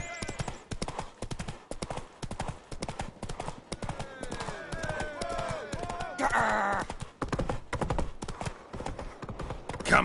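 Roach, the horse in The Witcher 3, gallops in a quick, steady clip-clop of hooves that runs throughout, with in-game voices and combat noise briefly breaking in over the hoofbeats.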